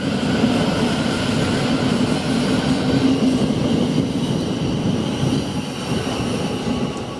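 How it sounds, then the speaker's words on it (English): A train rumbles steadily through Three Bridges railway station at close range, its loud continuous roar with faint wheel squeal filling the whole stretch without any voices. "And we should get another train coming up very soon as well."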